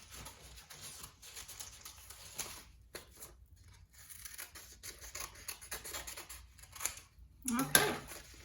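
Scissors snipping through paper during a children's craft, a few soft, quiet cuts spread across the stretch, with a sharper burst of snipping near the end and a voice talking in the background.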